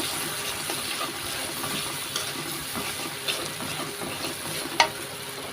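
Beef ball spice mix with nut paste sizzles steadily in a pan as it is sautéed, a continuous frying hiss with occasional soft stirring scrapes and clicks, close and moderately loud with no talking.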